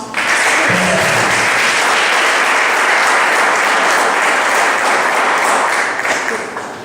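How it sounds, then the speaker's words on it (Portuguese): A church congregation applauds together during a sermon, a steady, dense wash of clapping that holds loud and even throughout, with a brief low murmur near the start. "Salve de palmas."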